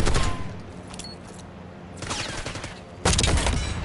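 Rapid gunfire crackles through a multiplayer match of Call of Duty Black Ops 6 on the map Babylon, fading slightly midway before a sharp, louder burst returns near the end.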